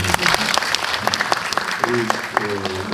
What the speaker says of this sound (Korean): 박관우 대표님 그리고 시나리오를 같이 쓴 민예지 작가님 같이 와 있는데 박수 한번 부탁드립니다.